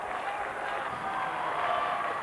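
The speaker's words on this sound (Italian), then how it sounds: "Assieme ad uno scrosciante applauso" Applause and crowd noise at a student festival as the winning solo singer takes first place, a dense steady roar of clapping filling the space throughout.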